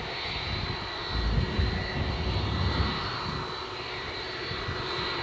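Boeing 757 jet airliner at Edinburgh airport, a steady broadband engine roar with a high whine, swelling slightly in the middle and holding at a distant, moderate level with no voices.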